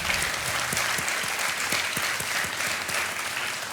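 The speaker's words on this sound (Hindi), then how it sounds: "तालियां बज जाए इनके लिए" A studio audience at a televised quiz show breaks into loud, sustained applause, a dense and even wash of clapping across the whole stretch with no talking over it.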